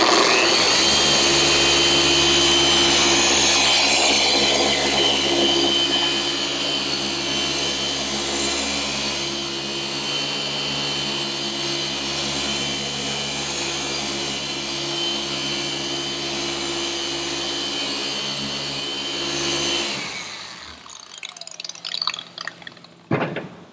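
A RUPES dual action polisher hums at a steady, loud whine for about twenty seconds while it works over car paint, then winds down and stops, followed by a few soft handling clatters.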